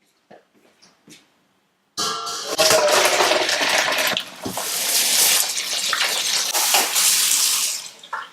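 Running tap water pours over freshly cooked broccoli and vegetables in a kitchen sink, a loud steady gush that begins abruptly after a few quiet clinks and stays strong until it cuts off at the end.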